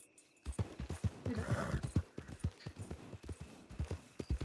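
A white Arabian horse's hooves clip-clop in an uneven series of close, distinct knocks, with a quiet gap at the start and a soft rustle partway through.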